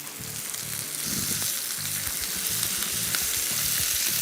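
Chicken searing on a grill pan over a high flame, a loud, steady, close sizzle with crackling spatter throughout and no talking.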